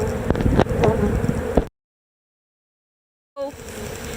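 Honey bees buzzing loudly at an opened beehive with the top boxes removed down to the brood boxes, a dense close drone that cuts to silence midway and then resumes.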